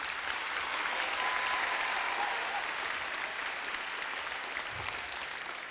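A room of students at a class assembly claps steadily and fairly loudly for Alexa. The applause holds as a dense wash of hand claps for several seconds and eases off only slightly toward the end.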